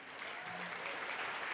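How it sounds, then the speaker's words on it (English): Audience applause at the 30th annual Mississauga Arts Awards gala for the arts council staff, a steady wash of clapping from a crowd that holds even and continuous, with a brief low voice murmuring partway through. "Please join me in a round of applause for MAC staff"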